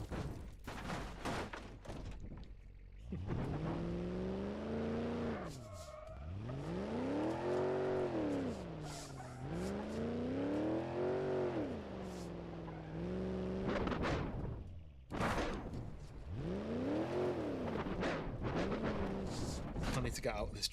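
Truck engine in BeamNG revving hard at full throttle, repeatedly climbing and falling in long rising-and-dropping sweeps, loud and close, with short breaks between runs and occasional talking.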